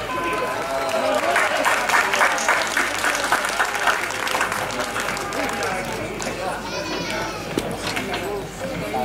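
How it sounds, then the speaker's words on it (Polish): A crowd claps steadily for a fire brigade team at an interregional show and competition of antique fire pumps. Children's voices and crowd chatter mix into the sustained applause. "Gorące brawa dla drużyny z Głębokiego."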